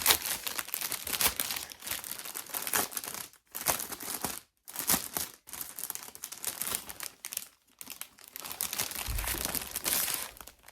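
Crinkly plastic packaging around an art print is handled and folded close by, giving bursts of loud crackling and rustling broken by brief pauses and no talking.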